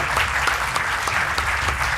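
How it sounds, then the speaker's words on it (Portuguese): A studio audience claps steadily during the game show Brainstorm, greeting a contestant with brisk, close, continuous applause. "Pedro Gaspar, um aplauso para ele."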